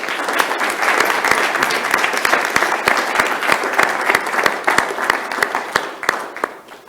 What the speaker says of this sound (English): one final round of applause for our panellists